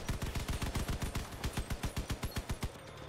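Vehicle-mounted guns in the Crossout combat game fire a rapid, steady burst of loud, close shots that continue through the whole stretch without pause.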